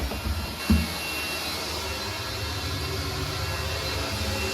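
A vacuum cleaner runs with a steady, loud droning whine after a brief knock at the start, cleaning out a clogged engine short block.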